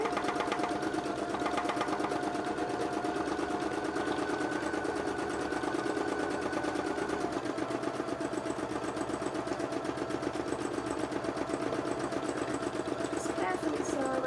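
An embroidery sewing machine stitches a breast embroidery piece, with a breast cancer awareness ribbon design to follow, running in a steady, rapid mechanical rhythm throughout at close range.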